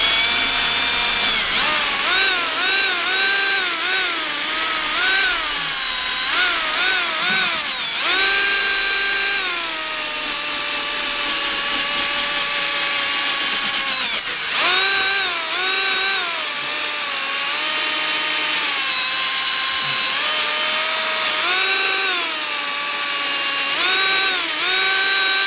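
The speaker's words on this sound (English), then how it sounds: "If you push too hard, it'll spin around in your drill." Electric drill spinning a polishing pad against aluminum checker plate to remove oxidation, a loud whirring motor whose pitch rises and dips repeatedly as pressure changes, running almost continuously.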